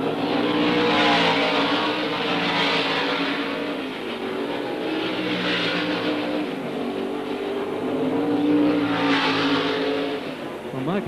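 Racing cars at the 1972 Tasman Series round in Adelaide roar past in waves, engines rising and falling as they approach and recede, with a commentator talking over the continuous motor noise.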